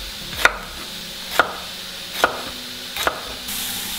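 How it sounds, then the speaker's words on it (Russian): A knife slices chili pepper into rings on a board, four crisp, evenly spaced chops, close and clear with no talking. "а также колечками нарежем перец чили."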